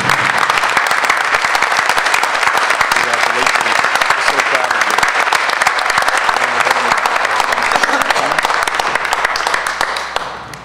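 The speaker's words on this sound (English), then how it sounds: "Let's give her a big round of applause this evening." Loud, dense audience applause at a school board meeting honoring a high school student of the month, steady for about ten seconds before tapering off at the end, with some voices mixed in.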